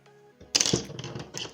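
Scissors snipping crochet yarn, a single close, sharp cut after a brief tonal sound, followed by light handling noise.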